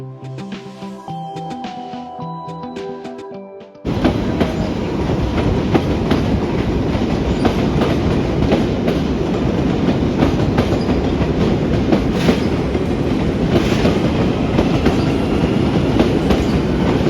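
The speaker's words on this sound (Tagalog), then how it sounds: "I love the train." A TGV high-speed train in France roars in abruptly after a quieter tonal opening, then holds a loud, close, continuous rumble with rhythmic wheel clatter and no talk.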